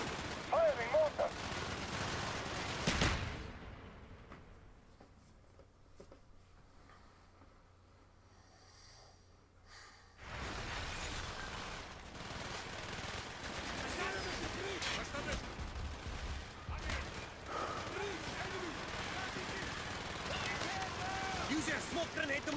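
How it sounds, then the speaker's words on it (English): Mortar fire in a Black Ops war video game, a loud thump near the start followed by a quieter lull, then heavy, sustained battlefield rumble and explosions. "Firing mortar!"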